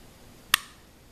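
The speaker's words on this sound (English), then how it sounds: "you hold the trigger, pull it back, listen to the reset" A single sharp, crisp click from the trigger resetting on an M&P 45 pistol, heard once, close and alone against quiet background.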